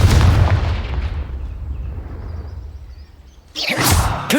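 Spell blast from a Harry Potter video game: a loud burst opening the clip that fades into a rumbling tail, then a second sharp, loud blast near the end.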